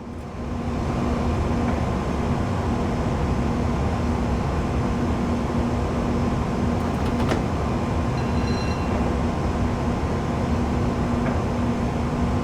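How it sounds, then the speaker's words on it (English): Steady, loud rumbling rail noise with a sustained low hum, like a train rolling past close by in Train Simulator Classic on the West Coast Main Line, continuous for the whole stretch with a few faint metallic pings. "You can actually hear the other trains pass you"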